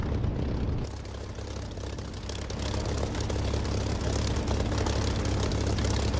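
Aircraft engine in the DCS flight simulator while taxiing, a steady heavy low drone and hum that swells slightly louder and fuller after the first second, no talk.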